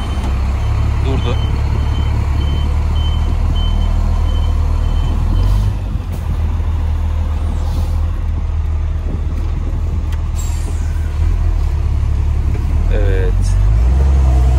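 A BMC truck idles with a deep, steady engine rumble at close range while reversing beeps repeat faintly above it, with people talking inside the cab.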